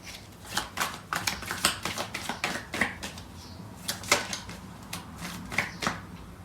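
Tarot cards are shuffled by hand in a run of quick, crisp riffling flicks and taps, close and fairly loud, with short pauses between bursts and no speech.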